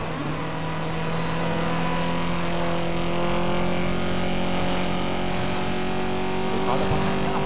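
A race car engine drones loud and steady in Need for Speed Most Wanted 2012, its pitch climbing gradually under a continuous wash of game noise, with a voice talking over it.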